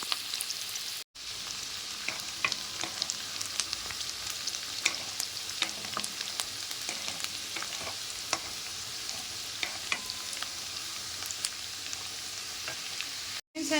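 Garlic and finely chopped onion roasting in oil in a pan for pasta, a loud continuous sizzle with crackling pops throughout, with no voices.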